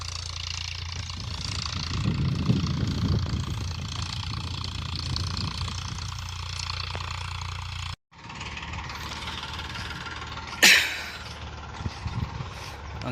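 A farm tractor running during wheat sowing with a double-box seed drill, a steady low engine drone at moderate distance, briefly cut off, then resuming with a sharp clank near the end.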